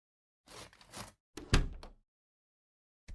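A locked door is tried in a video game, producing two bursts of rattling and a heavy thunk as it catches, then silence and the start of another rattle.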